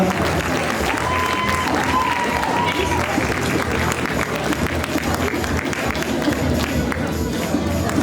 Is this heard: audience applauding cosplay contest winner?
yes